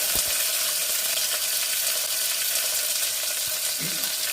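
Onion, curry leaves, mustard seeds and cumin fry in a pressure cooker pan for a cluster bean curry, giving a steady, close hiss with a few brief crackles and clicks and no talking.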